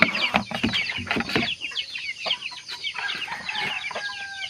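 A Burmese brood hen and other chickens cluck close by, with busy bursts of squawking at first, then scattered softer clucks and calls over a quiet farmyard background; nobody speaks.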